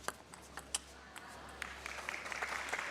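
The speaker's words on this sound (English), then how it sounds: "Crowd certainly encouraging every point." A crowd at a badminton semi-final applauds, starting with a few scattered claps and swelling into sustained clapping heard from a distance in a large hall.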